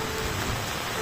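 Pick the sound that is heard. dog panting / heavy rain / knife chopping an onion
heavy rain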